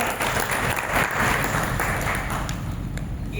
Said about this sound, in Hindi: ताली बजा दो भाई एक बार।